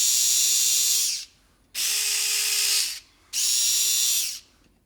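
A Japanese-made Vessel electric screwdriver runs in three bursts of about a second each, a steady high-pitched motor whine that winds up and stops with short pauses between, close and alone.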